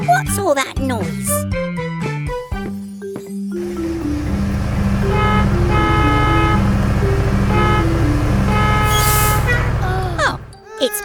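Barry the bus, a cartoon character, sounds a run of repeated horn toots in a rhythmic pattern over steady vehicle rumble. Jingly cartoon sounds come before and after the honking.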